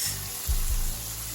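Shrimp sizzle in a hot pan with a steady, close frying hiss and a brief louder burst of crackle partway through.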